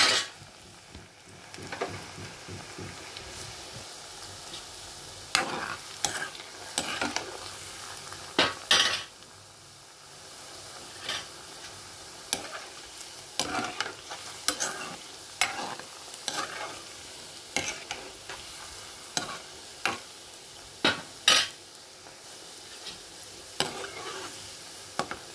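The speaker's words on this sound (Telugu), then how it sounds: "ఒకవైపు వేగిపోయాయి, రెండో వైపు కూడా వేగిపోతున్నాయి ఇవి" Food sizzles in a hot pan with oil, the steady frying hiss broken by frequent clinks and scrapes of a spatula stirring and turning the pieces, close and fairly quiet throughout.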